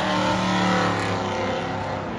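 Race car engine revving hard to heat the tires before a qualifying run at Hot Pit Autofest in California, a loud, close, steady roar that eases slightly toward the end.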